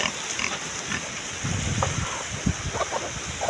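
Gusty mountain wind buffets the microphone in a steady roar, with a few short animal-like grunts and faint knocks breaking through.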